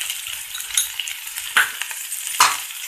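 A spatula stirs flat beans and tomato curry in a hot pan, with two sharp scrapes over a steady, close sizzle and no voices.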